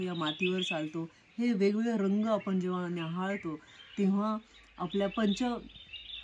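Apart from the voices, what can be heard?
birds chirping, sparrows and other birds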